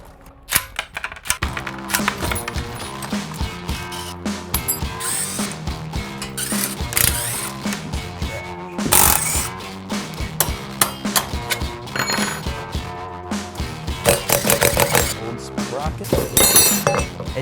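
Metal tools clatter and ratchet loudly and continuously as the rear sprocket on a $200 125cc mini bike is swapped for a 420-size one, with dense clinks, pawl clicks and scraping throughout.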